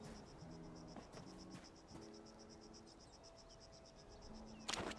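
An insect chirrs in the cozy video game Palia, giving faint, steady, rhythmic pulses at a high pitch. Soft game music tones play underneath, ending with a brief rustling burst.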